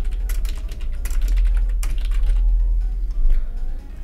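Rapid, close computer keyboard typing during a city-naming geography quiz, with dense clicking keystrokes over a low hum and a slight pause near the end.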